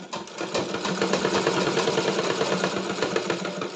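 Sewing machine stitching a Patiala pant, a steady fast mechanical rattle of the needle running continuously at close range with no talk over it.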